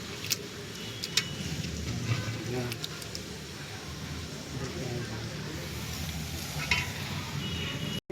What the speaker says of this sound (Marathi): कांदा तेल टाकून कांदा फ्राय करायला लावलाय